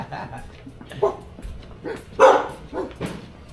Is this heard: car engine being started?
no